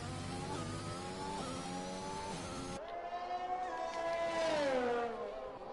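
F1 2021 race car engine at the Bahrain Grand Prix in a video game, a loud, continuous high-pitched whine that holds steady, then cuts and climbs again in rising harmonic sweeps as the car accelerates hard.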